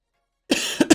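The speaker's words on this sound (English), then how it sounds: "Sorry about the coughing." A single person coughs at close range, a short harsh burst followed by two more quick coughs, with no speech.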